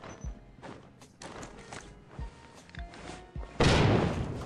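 A grenade blast in an online first-person shooter lands as a loud, sustained burst of noise near the end, after a run of dull in-game thumps and footsteps with no clear talk over it.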